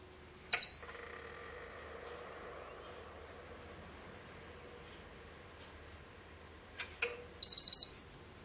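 PlayStation 3 console powering on: a short high electronic beep, then a faint sustained hum, followed near the end by a few clicks and another brief double beep, quiet room with no talking.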